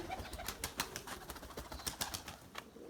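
Purebred Erzurum white pigeons kept as breeding stock in a loft, with soft cooing and fluttering wing sounds mixed with a steady run of light clicks and scratches, close by and fairly quiet.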